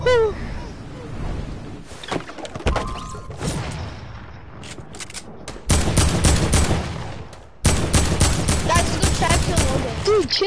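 Bursts of gunfire from a video game shooter match, loud and dense, with rapid volleys surging in waves and a heavier sustained barrage in the second half, while excited voices talk over the shooting.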